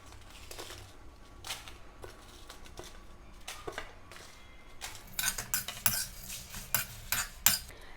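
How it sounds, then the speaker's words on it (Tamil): Dried red chillies with black pepper, cumin and fennel being dry-roasted and stirred in a pan, with scraping and rattling from a utensil that grows busier and louder toward the end, close up. "மிளகு, சீரகம், சோம்பு போட்டாச்சு. இப்போது நான் காஞ்ச மிளகாய் போடுறேன்."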